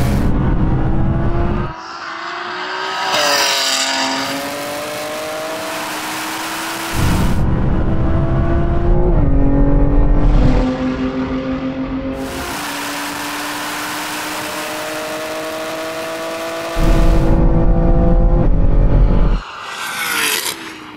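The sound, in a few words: Lamborghini Revuelto and tuned BMW M3 Touring drag race, third-gear roll-on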